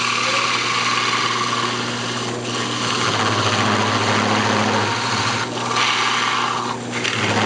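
A wood lathe spinning a natural edge maple bowl, a loud steady motor whine with a constant hum, broken by a few brief scraping dips as the tool passes through the wood.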